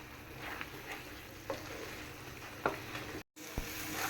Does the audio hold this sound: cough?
no